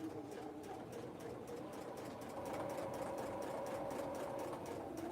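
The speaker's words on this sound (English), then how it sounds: "Although I do love to sew fast. And this machine likes to sew fast too, which is nice." A sewing machine stitching a vinyl snap-top bag runs in a fast, steady, continuous whir at moderate volume, with no speech over it.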